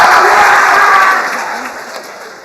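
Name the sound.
audience clapping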